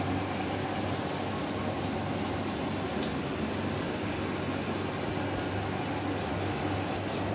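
Chicken fingers are lowered one by one into hot white oil in a wok, producing a soft, even frying hiss that continues unbroken for over seven seconds.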